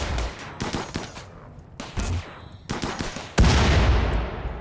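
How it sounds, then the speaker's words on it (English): Loud bursts boom in RimWorld: several sharp blasts with decaying rumbles, ending in one heavy explosion that rings out and fades, no voices over it. "was a bigger explosion than I thought it would be"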